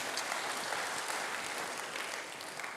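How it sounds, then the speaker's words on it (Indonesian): Congregation applauding during a church service sermon, a dense steady wash of many hands clapping throughout, fairly distant and even with no talk over it. "Berikan dulu tepuk tangan bagi Tuhan."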